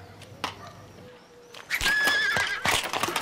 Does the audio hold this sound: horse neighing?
yes